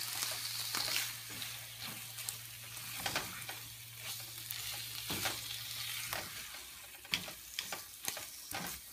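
Prawns for a ghee roast sizzle and fry steadily in a pan while a spatula stirs and scrapes them, with irregular clicking strokes over the continuous hiss and no voices.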